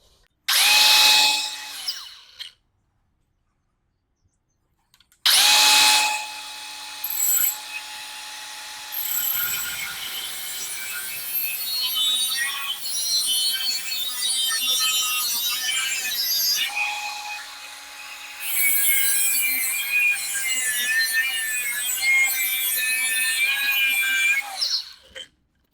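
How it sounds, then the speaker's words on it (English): An angle grinder cuts through a car exhaust pipe during an MBRP to Roush exhaust swap, whining loud and close in two long passes with a high harsh screech, broken by a short silent pause. "we are just going to cut it with an angle grinder and see how she turns out"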